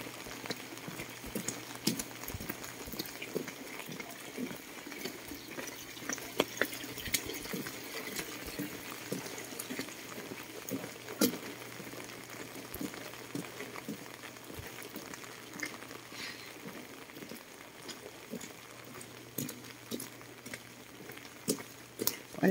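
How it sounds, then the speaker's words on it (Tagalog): Heavy rain with wind on a village street, a steady dense patter and splashing of water close by, continuous and moderately loud with no talk. "ulan pero may hangin pa rin."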